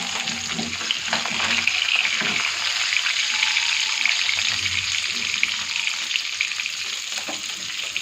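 Fish frying in hot oil, a loud, dense continuous sizzle with bubbling spatter and occasional clinks, close up and steady throughout with no talking.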